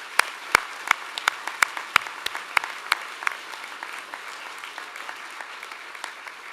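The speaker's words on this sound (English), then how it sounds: "Let's acknowledge all of them now with a round of applause" Graduation ceremony audience at UTS Faculty of Health gives a round of applause, a broad wash of clapping punctuated by sharp, close individual claps that thin out toward the end.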